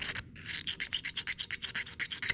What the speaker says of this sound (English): So I'm just gonna take my pick here and scrape some of that out of there.